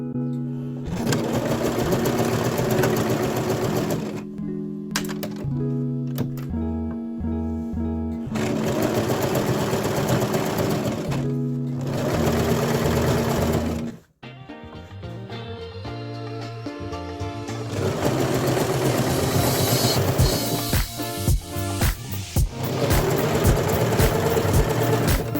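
A sewing machine stitches in long, continuous runs with a rapid mechanical whir, pausing briefly between bursts, close and steady.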